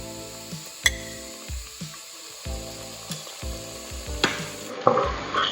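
Ginger garlic paste sizzles in hot oil with browned onions, a steady frying hiss punctuated by sharp clinks and scrapes of a spoon stirring the pan, close and without talk.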